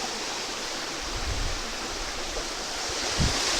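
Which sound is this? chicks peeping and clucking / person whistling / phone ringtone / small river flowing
small river flowing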